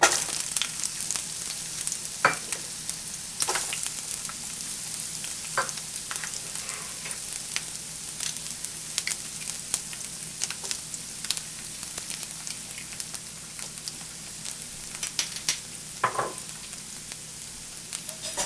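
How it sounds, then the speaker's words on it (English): Chopped green bell pepper, onion and garlic sizzle in a tablespoon of hot oil in a stovetop pan, a steady crackling fry broken by occasional louder spits and stirs. "take that tablespoon of oil and heat it up in a pan on the stovetop. And we're going to go ahead and add our vegetables"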